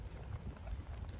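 Hooves of a Haflinger horse clip-clop on the ground during longeing with a double lunge line, a quick run of soft, close footfalls heard without talking.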